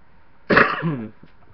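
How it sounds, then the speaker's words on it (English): A single close, loud cough, short and throaty, followed by quiet. "Still have a residual cough."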